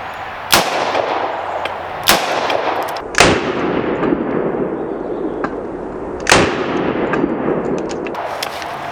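Shots fired at an HG2 bulletproof vest with .357 Magnum rounds: several sharp, loud bangs spaced a second or more apart, each followed by a brief ringing decay.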